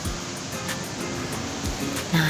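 Waterfall at Curug Orok in Bogor, a low fall of water producing a steady, close rushing roar with broadband noise and no talk.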